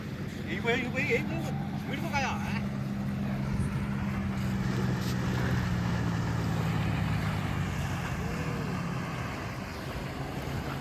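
A boat engine drones steadily at a low pitch with wind noise on the sea at Devbag, Malvan, while people talk over it throughout.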